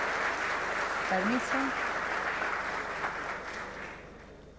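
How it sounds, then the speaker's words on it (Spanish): Audience applause at an academic panel on education and technology in a university hall, steady clapping that slowly fades, with a brief spoken word and murmurs over it. "Reiteramos el aplauso para ella."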